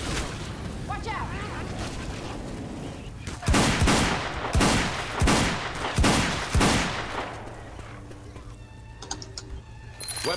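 Rapid bursts of gunfire in Left 4 Dead 2, a run of loud sharp shots clustered in the middle, with quieter game noise and beeping tones around them.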